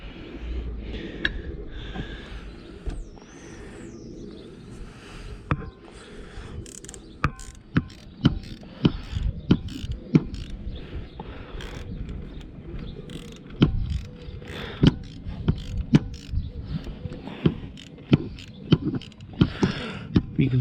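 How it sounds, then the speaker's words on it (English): A ratchet tightens bolts on a Volvo P2 power steering pump under the car, quick clicking pawl runs with metallic taps and knocks over a steady low background hum. "now we can start tightening them with a ratchet"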